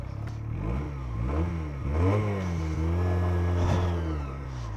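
A Leonart Pilder 125 motorcycle engine revs up and down through its exhaust, its pitch rising and falling in repeated swells over a steady close-up rumble, with no voices.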